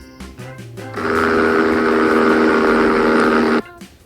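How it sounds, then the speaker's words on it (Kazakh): An airplane's engine roars in a loud, steady rush that swells up and holds for about two and a half seconds before cutting off, with light children's music faintly behind it. "Ұшақ."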